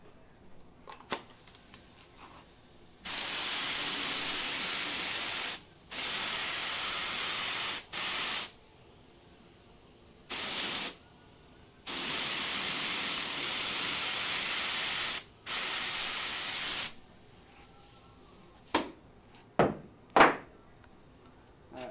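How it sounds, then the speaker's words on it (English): Spray adhesive hissing from an aerosol can onto carpet sides, several long steady bursts separated by pauses, fairly close, followed by a few knocks and thumps near the end. "I'm gonna go ahead and spray glue on the sides"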